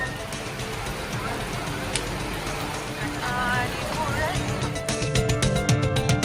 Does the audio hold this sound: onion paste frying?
no